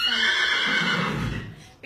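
A horse whinnies loudly and close in a riding-instruction stable, a single long descending neigh that fades out over about two seconds with no talk.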